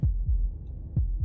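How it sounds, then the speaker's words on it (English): A slow, muffled heartbeat from the game Slay the Princess, two low double thuds a second apart, each pair a heavier beat followed by a softer one, alone over a faint background drone. "That was the sound of a heartbeat, followed by another, and another."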